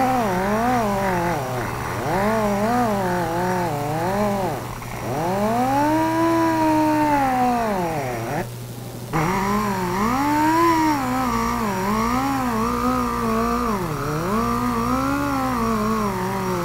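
A handheld power tool polishes an aluminum wheel rim, its motor whining steadily and rising and falling in pitch as the load changes, with one brief break partway through. The sound is loud, close and continuous, with no talking.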